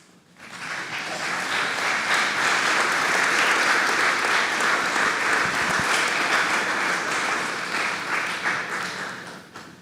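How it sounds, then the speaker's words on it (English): Graduates at a Duke athletics commencement ceremony applaud their families, a dense, sustained round of crowd clapping that swells in quickly, holds steady for several seconds and then tapers off. "face their folks and their relatives, and give them a round of applause"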